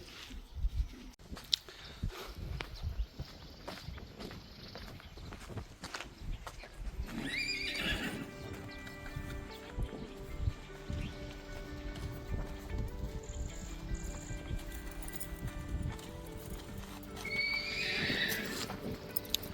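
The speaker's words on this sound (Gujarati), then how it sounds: "અહીંથી બધી ઘોડીઓ છે" Several mares whinny and neigh, with rising calls around the middle and again near the end, while hooves clip-clop steadily on hard ground close by.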